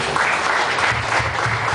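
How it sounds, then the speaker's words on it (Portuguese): Congregation at a Portuguese-language deliverance church service clapping for the Lord, a brief, fairly loud burst of massed applause with a low murmur beneath it. "Aplauda o Senhor."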